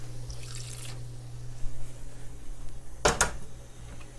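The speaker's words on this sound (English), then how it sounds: "I'm gonna add a little bit of water here and let it simmer" Water poured into a pot of simmering Japanese curry: a short, close splashing pour partway through, set over a steady low hum with faint drips before it.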